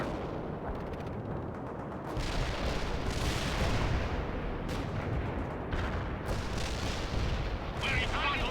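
Sustained gunfire and artillery thuds roll through a World in Conflict battle as an APC returns fire, with dense overlapping shots and booms over a continuous rumble.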